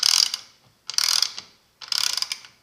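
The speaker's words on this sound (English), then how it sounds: "or I can use the ratcheting action" Craftsman Mach series 3/8 ratchet clicking as it drives a bolt, three quick bursts of fine, dense ratcheting, close and clear with short pauses between and no talk.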